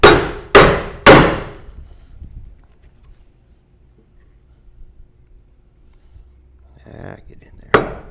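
A chisel is struck with a mallet to chop waste out of wood, giving three sharp, loud knocks in quick succession, then a quiet stretch with faint handling noise and one more crisp strike at the end.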